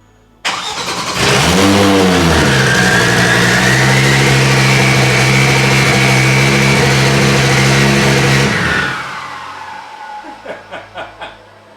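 An Audi Group S rally car's engine cranks and fires into life with a sudden loud roar, holds a steady rumbling idle with rising revs for several seconds, then cuts off, followed by faint clicking and ticking.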